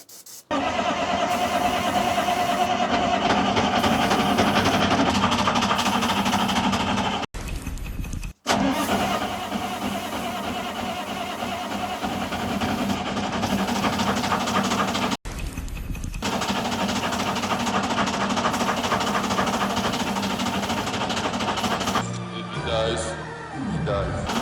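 A V12 Peterbilt 359 barn-find truck engine cranks and catches, then runs loud and steady, with a couple of brief drops in sound and people's voices underneath.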